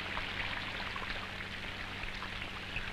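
Steady rain falls and patters on surfaces, a continuous even hiss with scattered drop sounds, heard alone without voices.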